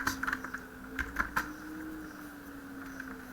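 Keys clatter on a computer keyboard in short, irregular bursts of quick taps, separated by pauses, close and fairly quiet.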